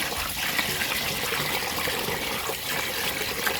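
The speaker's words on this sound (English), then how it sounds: "Wash the brown rice." Brown rice being washed under running water, a steady, close, fairly loud splashing rush that stays constant throughout with no voices.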